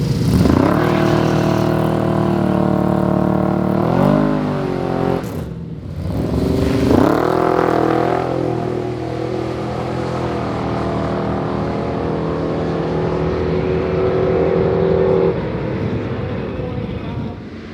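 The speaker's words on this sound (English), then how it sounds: "look at this old school drag race, 57 on 57" Two 1957 cars at an old-school drag race at a West Coast drag-and-drive rally, engines roaring loudly and continuously, pitch rising through gear shifts and briefly dropping before surging again.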